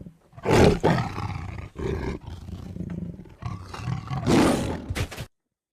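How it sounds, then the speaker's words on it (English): A tiger roars twice, loud and close, with a long rumbling growl in between the two powerful bursts before falling silent. "Tiger."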